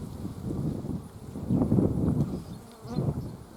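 Honey bees buzz in an open hive, a close, low, swelling drone that rises and falls in waves without any talking.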